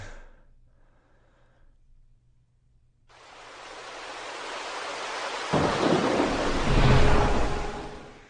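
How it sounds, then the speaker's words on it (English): Heavy rain falls steadily during a Mississippi downpour, its hiss swelling in loudness, and thunder rolls deep and rumbling in the second half. "The rain falling so heavily and so quickly."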